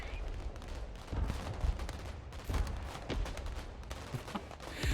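Mortar and other heavy weapons in the real-time military strategy game Broken Arrow fire in a rapid string of booming reports, overlapping bursts of gunfire and thuds filling the whole stretch at moderate loudness.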